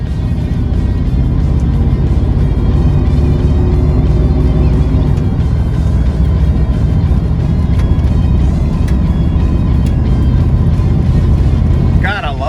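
An old Rolls-Royce runs and drives, a loud, steady engine drone and road rumble heard from inside the car, continuous for over ten seconds and easing off only at the very end.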